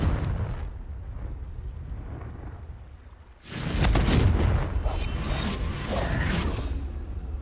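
A fire spell explosion in Hogwarts Legacy bursts as a loud, rumbling boom after a quieter stretch, then rolls on with a sustained crackling roar and debris-like noise for several seconds.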